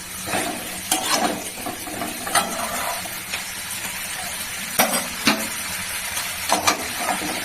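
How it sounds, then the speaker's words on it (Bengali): Fish curry with young jackfruit being sautéed in a pan, giving a steady soft sizzle with occasional sharp scrapes and clinks of a spatula stirring through it, close by and without talk. "এবার এটাকে আরো কষিয়ে দিলাম"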